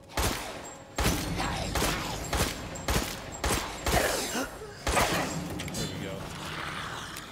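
Gunfire in Resident Evil Village, a series of sharp loud shots in irregular bursts about a second apart, some ringing out with echo, with no speech over them.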